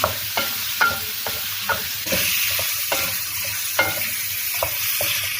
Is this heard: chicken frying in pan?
yes